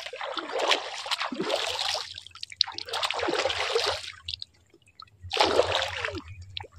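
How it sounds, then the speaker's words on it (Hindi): Hands and feet are washed in pond water in three bursts of splashing and trickling, close and fairly quiet, with no talking. "चलिए फटाफट पैर हाथ धो लेते हैं तालाब के पानी में।"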